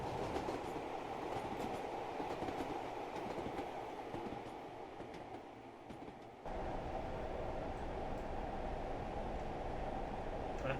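Steam train from Train Simulator Classic on a 1950s Stour Valley Railway route approaching Bartlow, a steady rolling rumble with rail clatter and hiss, continuous and fairly close, briefly dipping mid-way before resuming.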